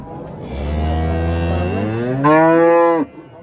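A single cow gives a loud, close, drawn-out moo at the Piskent livestock market, rising in pitch toward its end and then cutting off, with no talk over it.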